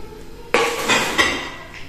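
Plates clattering at a supermarket checkout: a sudden sharp ceramic clack followed by a second clink about half a second later, close and fairly loud, with no voices.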